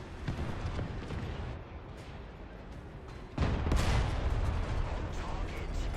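Explosive shells firing in the War Thunder tank game, rumbling heavy blasts and rolling booms that jump louder halfway through into a dense, sustained barrage.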